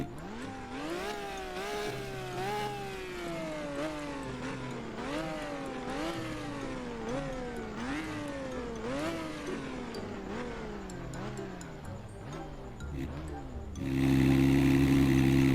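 Video game car engine revved in neutral, a series of rising and falling revs repeated about a dozen times in a steady rhythm, followed by a louder, flatter engine drone at the end.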